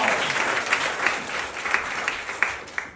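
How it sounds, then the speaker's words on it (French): An audience at a French-language roast battle comedy show claps and cheers. The dense applause stays steady, with sharper hand claps and whoops rising out of it, and there is no talk. "les applaudissements, mesdames et messieurs"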